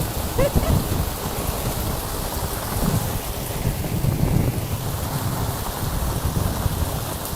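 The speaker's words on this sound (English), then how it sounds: "और बारिश की छींटे सब अंदर आ रहे हैं" Heavy rain and wind gusting in through an open window during a storm, a dense steady hiss of rain with a low rumbling roar, loud and continuous throughout.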